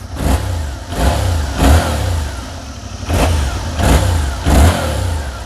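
A Yamaha MT-07 motorcycle with its stock factory exhaust revs repeatedly from an idle of about 1500 rpm up to around 5000 rpm, six sharp close blips in an even rhythm, loud, with no talk.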